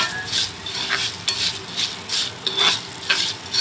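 Dry fish fries in oil while being stirred, a close crackling sizzle with rhythmic scraping strokes of a spoon roughly every half second, no voices present.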